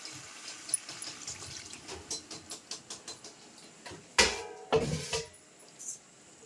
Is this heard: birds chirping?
no